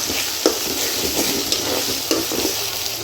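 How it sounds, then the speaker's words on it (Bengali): Spice paste being stirred into frying onions for a beef brain bhuna, with continuous loud sizzling and a few sharp scraping strokes of a spoon in the pan, close up. "এখন এই পেঁয়াজের সাথে মশলার ফাঁকিটা ভালো করে মিক্স করে নেব"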